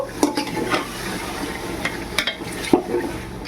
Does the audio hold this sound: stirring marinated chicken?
yes